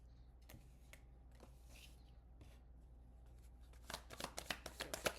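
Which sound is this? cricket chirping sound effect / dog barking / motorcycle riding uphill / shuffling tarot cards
shuffling tarot cards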